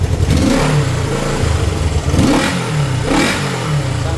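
A Honda CB-series motorcycle engine, a CB360 or CB550 Super Sport just fixed of fouled plugs, runs close by with a steady, slightly uneven idle and a few brief revs rising over the rumble.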